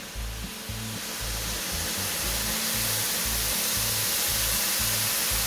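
Lamb paella rice sizzles loudly in a hot pan right after water is poured in, a dense steady hiss close by with a pulsing low rumble underneath and no talking.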